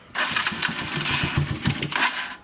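A small motorcycle engine on a cheap carburetor sputters to life and revs unevenly, rumbling loudly and close for a couple of seconds, with water in the exhaust.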